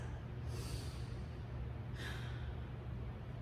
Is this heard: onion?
no